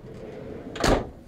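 A freezer drawer beneath a Sub-Zero refrigerator in a 2002 Liberty Prevost XL motorhome kitchen slides open in one quick, soft rumble against quiet room tone.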